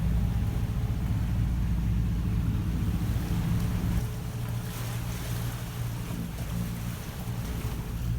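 A catamaran sailboat motoring under engine at sea between St. Thomas and Florida, a steady low engine drone with wind and wave noise throughout, slightly quieter after the midpoint.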